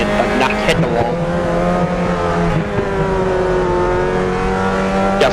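Mazda MX-5 Cup race cars run on the St. Petersburg street circuit, engines droning steadily near and loud with shifting pitch throughout, as commentators talk over the racing.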